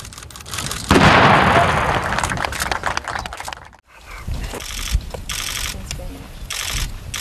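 A weapon is fired, giving a loud, sharp blast with a booming tail, followed by a short drop in sound and then continuing noisy rumble and scattered cracks.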